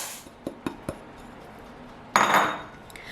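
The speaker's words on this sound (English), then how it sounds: "now we take our huge bowl, add sugar" A few bright clinks of utensils against a large mixing bowl, then a short, grainy rush as sugar is poured in for a red velvet cake, followed by a faint tap.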